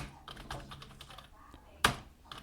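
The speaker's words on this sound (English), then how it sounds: "As you can see the typing on the thing" A COLIKES RGB backlit wired USB computer keyboard is typed on in a quick, uneven run of soft close key clicks, with one sharper, louder keystroke near the end.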